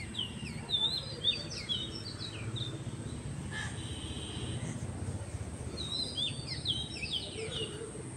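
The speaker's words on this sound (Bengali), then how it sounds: "পাচ্ছ পাখির আওয়াজ?" Birds calling in trees around a guava garden, a few scattered high chirps and short twittering calls at moderate distance over a low background hum, with clusters near the start and end.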